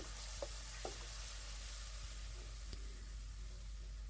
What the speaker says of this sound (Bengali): এখন একটু পানি দিয়ে ভালো করে আবার কষিয়ে নেব, যেন মশলাটা পুড়ে না যায়